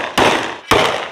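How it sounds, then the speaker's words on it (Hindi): Firecrackers exploding in a village during Diwali celebrations: two sharp, loud bangs about half a second apart, each with a broad crackling burst that decays quickly, with no voices. "अब भी पटाखे फटका रहे हैं"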